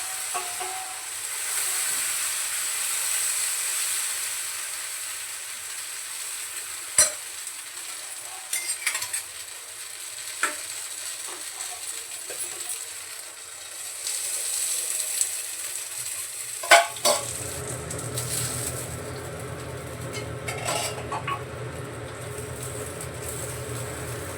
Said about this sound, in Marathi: आता दोन्ही साईडने असे मस्त भाजून घेतले